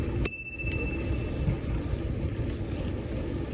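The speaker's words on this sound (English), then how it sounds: "Ring the bell." A single bright bicycle bell ding near the start on a countryside bike ride, followed by steady wind and road noise with no talking.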